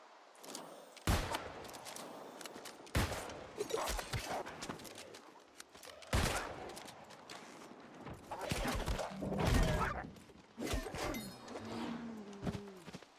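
Explosive shots and trap combo bursts in New World, the Angry Earth expansion, fire as sharp, close blasts in irregular clusters amid clattering combat noise, with a voice speaking intermittently underneath.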